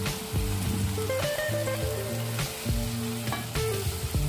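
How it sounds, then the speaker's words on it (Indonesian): Shrimp sizzle steadily in a hot pan, with scraping stirs and a few clanks of a utensil against the pan. "Kita tumis sampai aromanya wangi."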